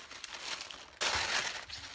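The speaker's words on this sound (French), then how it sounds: "on va mettre son papier de soie" Tissue paper being crumpled and pressed into a small box, with a soft crinkling rustle that turns suddenly louder and fuller halfway through, close to the microphone.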